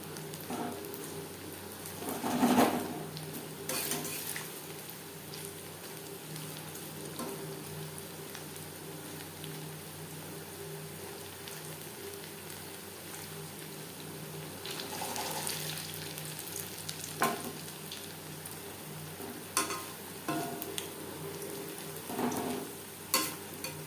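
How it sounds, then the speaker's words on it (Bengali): Paneer pakoras deep frying in hot oil, a steady soft crackling hiss running throughout with a few louder bubbling bursts, no voices. "সেম প্রসেসে প্রত্যেকটা ব্যাচের পনির পকোড়া ভেজে নেব"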